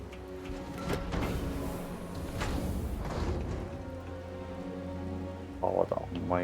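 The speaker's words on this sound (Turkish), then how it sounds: "Havada amma yağmur." Steady rain falls in the Starfield video game, a soft continuous patter with low background tones and a brief clattering burst near the end.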